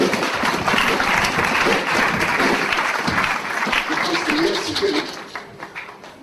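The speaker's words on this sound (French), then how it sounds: "On va acclamer très fort le roi des rois." A church audience bursts into loud, sustained applause acclaiming a prophet, dense clapping with crowd noise that holds steady for several seconds before trailing off, with some voices faintly underneath.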